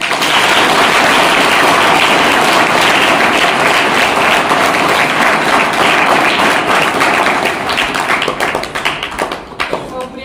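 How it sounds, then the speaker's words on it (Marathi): Enthusiastic applause for students at a tree-planting project event, dense rapid clapping from a sizeable audience, loud and sustained before thinning into scattered claps at the end. "त्यांच्यासाठी जोरदार टाळ्या."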